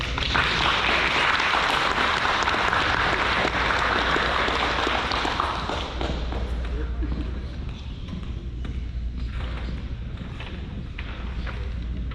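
Audience applause at a senior awards night, a sustained wash of clapping that is loud at first and eases after about six seconds, with voices talking through it.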